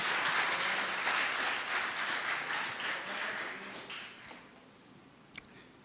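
A church congregation applauding during a sermon: dense, steady clapping carries for about four seconds, then thins out and fades to a few scattered claps near the end.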